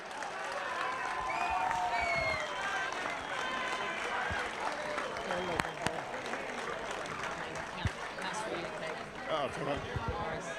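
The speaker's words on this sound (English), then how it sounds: "give Bort a massive round of applause" An audience at a Railways Football Club premiership event gives a sustained round of applause with scattered cheers and whoops, the clapping swelling early and then continuing steadily while people talk in the background.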